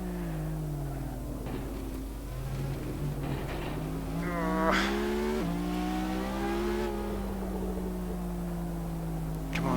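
Brabham BT62 hypercar in the Assetto Corsa racing game at Laguna Seca, its engine note climbing and falling through gear changes and corners, loud and steady throughout with a sharp rev spike midway.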